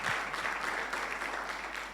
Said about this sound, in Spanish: ¿Qué le parece si le da un aplauso a quienes nos están mirando?